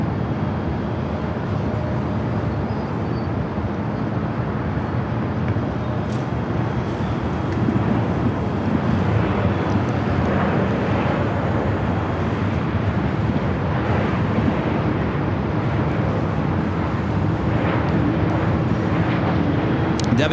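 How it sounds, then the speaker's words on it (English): A China Cargo Airlines Boeing 777 freighter takes off from runway 25 right at LAX, producing a loud, continuous roar of jet engines, with a rumbling wind-buffeted texture that holds steady throughout and has no talking over it. "We got that flight 222 taking off 25 right."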